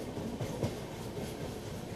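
Duronto Express hauled by a WAP-7 electric locomotive running at over 130 km/h: a faint, steady rail rumble with soft rhythmic wheel clatter and a brief bump, with no talking.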